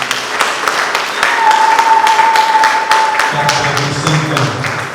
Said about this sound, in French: On peut applaudir pour le Seigneur